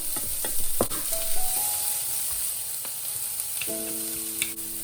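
Corn kernels sauté for vegan fried rice, a close, busy sizzle with spatula scrapes and brief tonal beeps.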